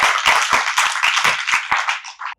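An audience at a literary lecture event claps to welcome two speakers to the stage; dense bursts of clapping run steadily, then stop abruptly.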